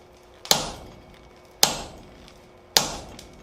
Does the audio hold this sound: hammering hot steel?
yes